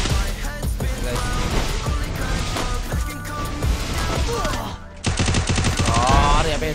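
Rapid gunfire in a Free Fire clash squad match, with dense, loud bursts of automatic shots and impacts throughout and a sharper burst near the end, layered over game sounds.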